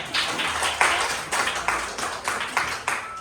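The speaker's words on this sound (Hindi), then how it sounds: "बच्चों के एक बार तालियां बजा दें भाई।" An audience at a Guru Nanak Gurpurab celebration claps for performing children, a crowd's applause with a few loud synchronized beats standing out in a pulsing rhythm.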